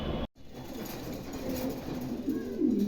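Pigeons at a bird market coo faintly in short low warbling phrases, starting after a brief dropout and growing slightly louder toward the end over a steady background hum.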